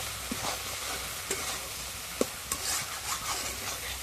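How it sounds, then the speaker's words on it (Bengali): Ridge gourd cooking in poppy seed paste is stirred in a pan, with soft scraping strokes, occasional sharper clinks and a faint low sizzle, quiet and close with no talking. "দিয়ে ভালো করে কষে নেব"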